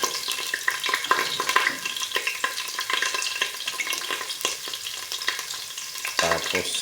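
Ginger sizzling steadily in a hot pan for chicken adobo, with a broad crackling hiss and occasional stirring scrapes; close and fairly loud, with no talking.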